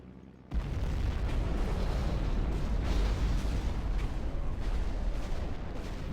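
Rise of the Reds real-time strategy game battle: a dense, continuous barrage of explosions and booming artillery bursts after a brief quiet start, loud and sustained throughout.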